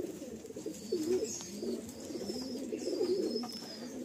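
Eye-quality flying pigeons coo softly nearby, two rounds of low throaty burbling with a faint higher chirp overhead, quiet and alone without talk.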